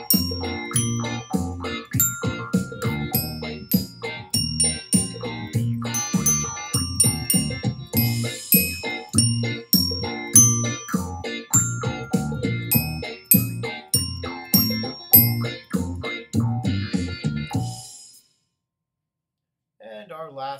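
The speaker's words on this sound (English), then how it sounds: "let's try this on our bells. Grab your mallets." School mallet bells such as glockenspiel or bell kit struck with mallets by a grade 4–6 band class, ringing out a steady counted tune of many bright, clear strikes, then stopping near the end.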